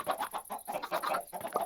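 Minecraft chickens cluck repeatedly in a farm build, a steady run of short, close, moderately loud calls with no speech.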